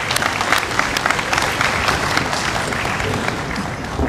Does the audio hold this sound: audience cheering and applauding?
yes